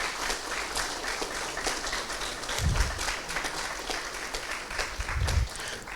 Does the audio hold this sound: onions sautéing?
no